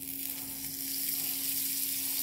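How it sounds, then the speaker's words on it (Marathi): Butter sizzles steadily as a sandwich toasts in a sandwich maker, a constant close frying hiss with a faint electrical hum beneath. "हे बघा, आता मी सँडविच मेकरमध्ये ते भाजून काढते"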